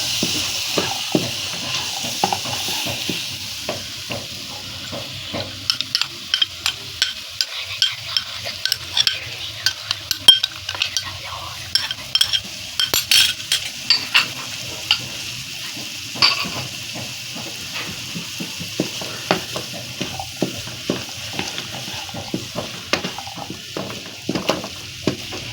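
Spiced egg and pea curry being stirred in a frying pan, with a steady soft sizzle under repeated scraping and clinking strokes of the spoon against the pan, close and continuous, with no voices.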